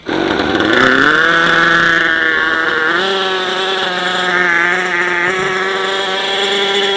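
A small gas-powered Raptor 30 model engine revs with a high, buzzing whine, its pitch rising and falling as the throttle changes, loud and close with no talking.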